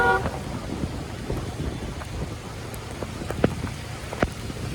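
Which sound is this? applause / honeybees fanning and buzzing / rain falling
rain falling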